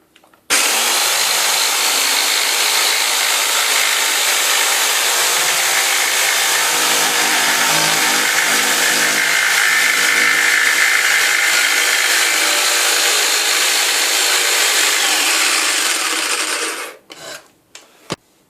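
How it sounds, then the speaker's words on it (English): A jigsaw runs at top speed through wood, a loud, steady, harsh buzzing rasp held for about sixteen seconds before the blade stops and a few clunks follow. "now I'm going to speed up the machine to top speed"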